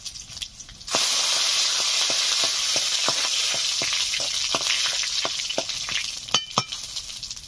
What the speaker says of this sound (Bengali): তেল গরম হয়ে গেছে, দিয়ে দিচ্ছি থেতো করে রাখা আদা, গোটা সাদা জিরে, দুটো শুকনো লঙ্কা